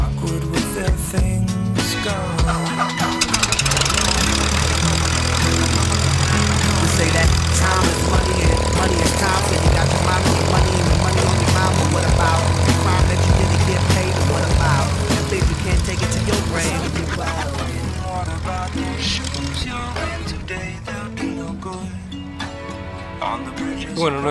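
The propeller engine of a training aircraft drones steadily and loudly throughout, a continuous low hum that eases slightly toward the end.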